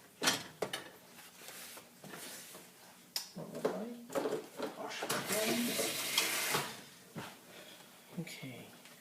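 Gujarati kadhi whisked in a pot, quick scraping and clinking strokes of the whisk against the metal in irregular bursts, close by and moderately loud, with a person talking between them.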